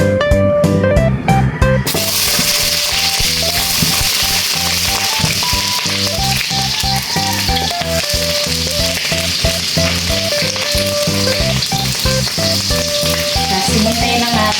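White onions fry in a pan for chop suey, a loud continuous sizzle under steady, prominent background music throughout.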